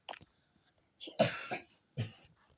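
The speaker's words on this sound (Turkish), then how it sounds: "Birisi öksürüyor." A single person coughs a couple of times, close and fairly loud, with short breaths and quiet pauses between the bursts.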